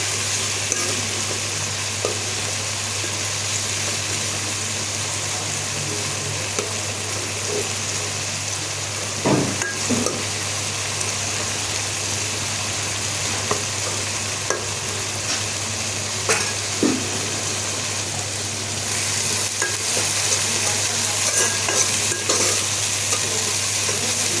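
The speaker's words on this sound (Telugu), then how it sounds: "ఇప్పుడు కడిగి పెట్టుకున్న రొయ్యలు వేద్దామండి. రొయ్యలు కొంచెం వేయగానే నూనెలో" Washed prawns fry in hot oil with a steady, loud sizzle that runs throughout, broken now and then by sharp spatters and the light scrape of stirring; no one speaks.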